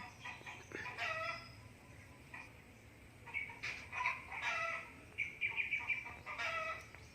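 Chickens cluck and a rooster crows at a distance, in scattered bursts over a quiet outdoor background.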